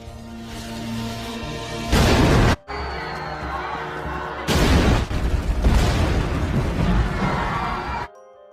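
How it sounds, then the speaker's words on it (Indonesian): A bomb explodes inside a room in a war film about Dutch colonial fighting: two loud booming blasts with crashing debris, the first brief and the second longer, set over a dramatic film score. "pengkhianatan Yanto pun dibayar kontan dengan bom di ruangan yang ia masuki"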